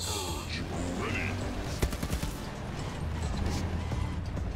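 Rapid automatic gunfire from the player's weapon in a video game, a dense burst of shots with a sharp crack near the middle, heard alongside a voice.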